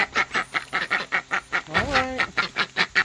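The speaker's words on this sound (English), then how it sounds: "We're fixing to go out here and feed these ducks again." Ducks quack in a rapid repeating series at feeding time in a farmyard, close and fairly loud, with a longer honking call breaking in midway.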